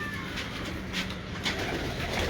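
Pigeons in a fancier's loft cooing softly in low repeated calls, with faint chirps and steady background noise over the short span.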